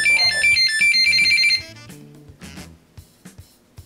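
Electronic speed controllers on a Pixhawk-equipped drone chirp at power-on with the transmitter throttle at maximum: a loud run of bright, steady beep tones for about a second and a half, followed by quieter separate clicks and short blips.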